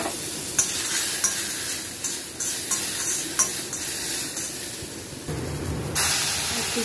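Chopped tomato, onion and garlic fry in ghee in a new, very hot iron kadai, giving a loud, continuous sizzle and hiss broken by repeated clicks and scrapes of stirring.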